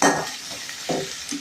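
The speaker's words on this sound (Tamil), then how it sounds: "வெங்காயம், நல்லா வதக்கிக்கலாம்." Onions sautéing in a pan for a vegetable kurma, with quick scraping stirs and a light sizzle in short bursts, close and fairly loud.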